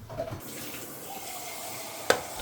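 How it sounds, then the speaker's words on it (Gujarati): Water poured into a cooking pot while preparing prawn biryani, a faint steady trickling stream with a couple of sharp clinks near the end. "જો હવે છે ને તો આમાં પાણી નાખી દઈએ."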